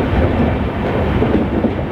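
A moving train rolls toward Laxmibai Nagar station near Indore, a continuous loud low rumble of wheels and carriages with no clear clicks or voices.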